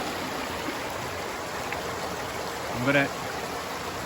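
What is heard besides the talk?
heavy flowing stream water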